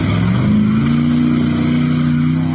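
A Toyota Hilux single cab truck engine revs loud and close, pitch climbing steadily into a sustained high drone with no voices over it.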